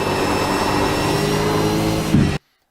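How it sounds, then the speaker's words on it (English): A race car engine at Road Atlanta drones loudly and steadily under heavy braking, then gives a brief rising blip as it downshifts to third gear before cutting off into silence. "we're very heavy on the brakes here. We're going to downshift to third gear."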